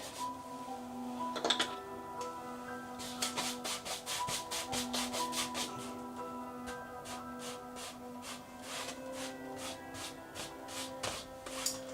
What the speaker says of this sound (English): Again, just smoothing this all out, getting rid of these brush strokes.